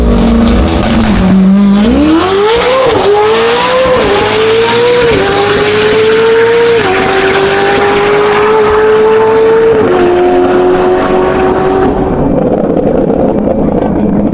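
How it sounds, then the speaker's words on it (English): A C8 Corvette ZR1 accelerates hard on a quarter-mile test run, its engine climbing through several sharp gear changes, each one dropping the pitch before it rises again, loud and close before the sound fades at the end. "it looks like the car is warmed up, so let's see how it does for the test run down the quarter mile."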